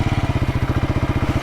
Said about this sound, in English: And you can hear me rev the engine.